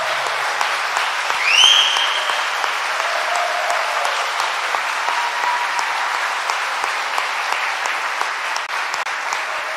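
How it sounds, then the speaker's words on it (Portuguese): Steady applause from a church congregation fills the whole stretch, a dense wash of many hands clapping at even strength, with a brief rise in the first couple of seconds. "Então aplauda Ele com força"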